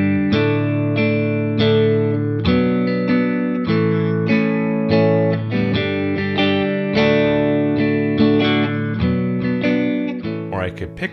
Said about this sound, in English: I could strum my way through it and it would sound more like this.